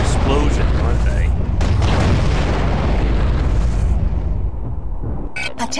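A big underwater explosion in the video game Aquanox rolls out as a long, heavy boom that rumbles and fades, followed by a couple of sharp, short bursts at the end.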